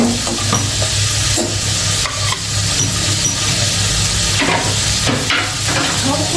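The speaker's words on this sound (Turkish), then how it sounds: "Soğanımı, biberimi atayım. Biraz kavuracağım." Onions and peppers sauté loudly in a pan for a Turkish meat and vegetable stew, a continuous close sizzle broken by repeated scraping stirs and occasional clinks of the utensil against the pan.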